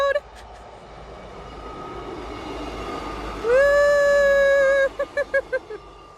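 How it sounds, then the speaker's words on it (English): A passing train sounds a loud, steady horn blast followed by a series of short horn toots, heard over a continuous rumbling background. "Sorry, that's another train."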